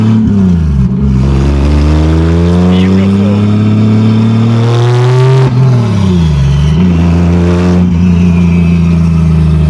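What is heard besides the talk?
1987 Toyota Supra 2JZ-GE turbo engine revving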